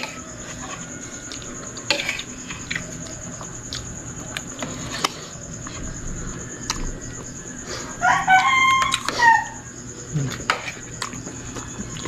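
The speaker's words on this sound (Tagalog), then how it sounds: "kakain pa lang yung manok, tumiktilaok na" A rooster crows once from a short distance, a clear rising call standing out over a quiet kitchen background with faint clinks of dishes and pots.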